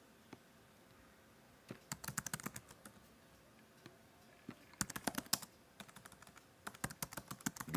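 Typing notes on a computer keyboard, close and fairly quiet, coming in short bursts of rapid keystrokes separated by brief pauses.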